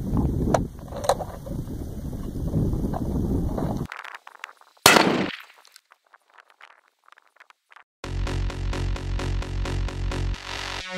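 A .270 Winchester rifle round strikes an Armour Wear AR680 armor plate outdoors, giving one sharp, loud report midway through after a stretch of noisy ambience, followed by near silence.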